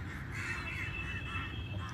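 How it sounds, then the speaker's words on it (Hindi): Crows caw over a rooftop at dusk, a faint, distant chorus of calls blending with low background hum, and no one speaking. "वो सारा कौआ भाग रहा है"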